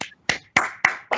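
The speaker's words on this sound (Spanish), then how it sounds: "Un aplauso." Handclaps from an audience after a talk on the role of the workplace psychologist in HR, five sharp separate claps in a slow, steady rhythm, close and fairly quiet.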